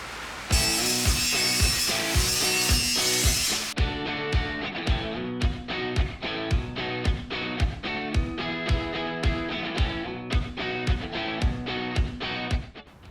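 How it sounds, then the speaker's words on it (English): A wire brush scrubs gunked-up trim on a pop-up camper roof, starting with a loud continuous rasp, then settling into a steady run of rhythmic back-and-forth strokes, close and without voices. "I think what I'm going to do is just wire brush it down good and maybe repaint this trim"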